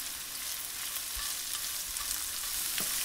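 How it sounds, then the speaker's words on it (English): Crab pieces with chilies and chunks of spring onion stir-fry over high heat in a cast iron pan, giving a steady, dense sizzle and crackle throughout with occasional scraping stirs. "Stir frying this on high heat in a cast iron really works because you get them to crisp up"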